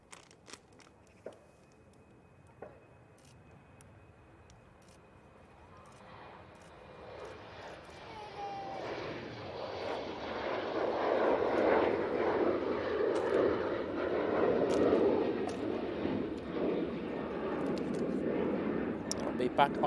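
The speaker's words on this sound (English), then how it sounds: "Thin Air Embraer, now on the roll." An Embraer airliner takes off at Manchester Airport, its jet engine roar swelling from quiet to a loud, sustained broadband rumble that holds through the second half, with a few faint clicks early on.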